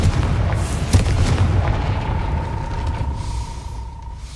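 A Confringo fire blast spell in the Hogwarts Legacy video game lands as a loud, booming explosion followed by a sustained rumbling roar that slowly fades over several seconds.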